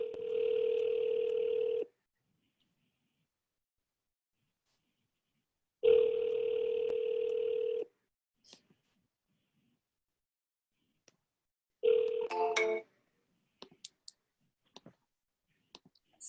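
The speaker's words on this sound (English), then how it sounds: "Somebody answer the phone." A telephone call's ringback tone sounds as two long, even rings with a pause between them, followed by a third shorter burst and a scatter of sharp clicks and beeps. No one speaks.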